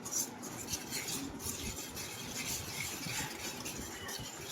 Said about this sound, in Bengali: পেঁয়াজ একটু সুন্দর করে মিক্সড করে নেব